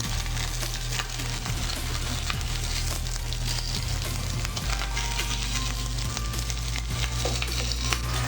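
Polenta cakes searing in a hot pan give off a steady, dense sizzle that runs unbroken and close, with no one talking.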